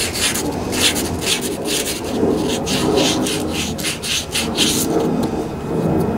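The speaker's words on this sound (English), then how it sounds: "you want to sand that with a real fine grit" Fine-grit sandpaper rubs rust off a Briggs and Stratton starter motor in quick back-and-forth strokes, a close, rhythmic scratchy rasp repeating steadily throughout.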